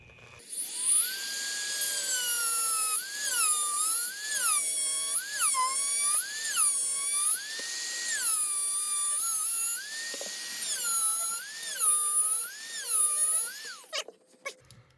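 A rotary tool cuts into the epoxy potting of a Steinberger guitar pickup, giving a high, loud whine that rises and dips in pitch as the bit bogs and frees up, in repeated bursts before stopping near the end.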